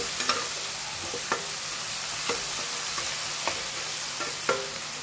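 A green onion and two green chilies fry in a pan with cumin, a steady low sizzle running throughout, punctuated by soft regular stirring taps roughly once a second, close and without any voices.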